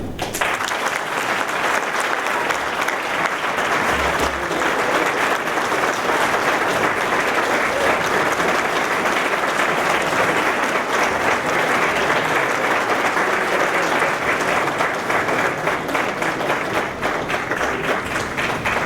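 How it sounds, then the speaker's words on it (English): An audience at a tribute and award ceremony applauds a Lifetime Achievement Award, a loud, steady wash of many hands clapping that continues unbroken throughout. "Please, another round of applause for our Lifetime Achievement Award."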